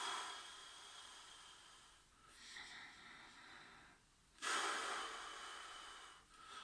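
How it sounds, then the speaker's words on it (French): Slow, deep belly breathing heard up close: long airy breaths that rise and fall, then a strong, forceful exhale near the end, with no talking. "On expire, on rentre le ventre."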